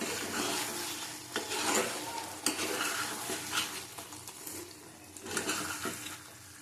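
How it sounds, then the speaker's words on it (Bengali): A spoon stirs dal cooked with papaya in a pot after a little sugar is added, giving a steady scraping and bubbling murmur with a few louder clinks against the pot. "একটু চিনি দিতে হবে ভালো করে নাড়িয়ে নেবো"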